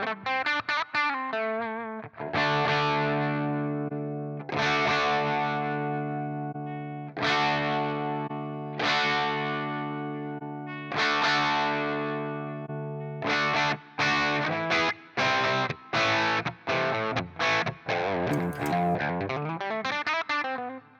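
Electric guitar through a Blackstar St. James EL34/6L6 tube amp plugin set with treble up and no bass, playing sustained distorted chords then a run of tight, rapid chugging hits, loud and alone.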